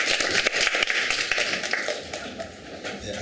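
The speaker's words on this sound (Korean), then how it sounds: "掌声欢迎，네 큰 박수 보내주시기 바랍니다" Applause from a conference audience welcoming a company general manager to the stage, dense clapping at steady loudness throughout, fading slightly toward the end with no speech over it.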